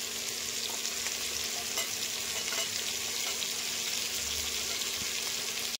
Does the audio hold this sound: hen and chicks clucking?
no